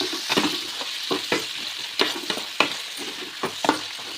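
Spring onions and curry leaves sizzling in hot oil for a tempering in a pan, with a spoon stirring and scraping in repeated close, sharp strokes over a steady fry hiss.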